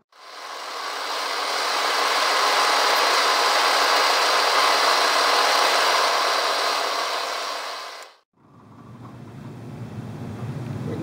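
A powered buffing tool polishes a brass bullet casing coated with Brasso, giving a loud, steady whirring drone for about eight seconds before cutting off abruptly, leaving a quieter low rumble.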